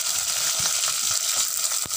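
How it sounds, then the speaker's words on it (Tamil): Chopped shallots hit hot sesame oil with dried red chillies in a pan for a ladies-finger tamarind curry, giving a continuous close, crackling sizzle with small stirring knocks and no talking. "இப்போ நம்ம நறுக்கி வச்சுருக்கிற வெங்காயம் சேர்த்துக்கோங்க"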